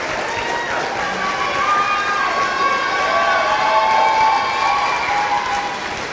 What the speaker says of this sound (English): give them a round of applause for the support they've given you